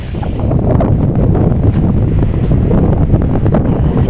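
Strong wind roars and buffets the microphone in a steady, loud rumble with no voices.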